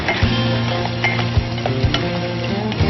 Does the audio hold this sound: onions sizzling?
yes